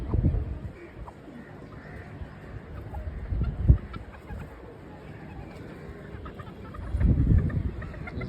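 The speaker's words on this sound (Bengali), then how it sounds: "সব মুরগিগুলো খাচ্ছে কিছু মুরগির পাশে আছে" Chickens on a farm in Malaysia clucking as they eat at feeding time, with scattered soft clucks and pecking noises, a few louder bursts, and some faint voices in the background.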